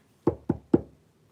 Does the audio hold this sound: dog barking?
no